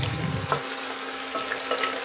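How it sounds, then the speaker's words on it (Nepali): Cleaned goat legs fry in oil inside a pressure cooker over a medium flame, giving a steady close sizzle with a few soft stirring knocks at the start. "मैले यसरी फ्राई गरिरहेको छु।"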